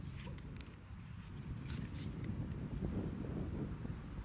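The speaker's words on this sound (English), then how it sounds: "wind's blowing a little bit" Wind blowing outdoors buffets the microphone in a steady low rumble that runs the whole time, with faint higher gusts and rustles on top and no voices.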